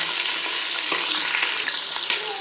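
Onions fry in hot oil in a pan for chicken karahi, a loud, continuous bright sizzle close up with faint stirring scrapes, no talk over it.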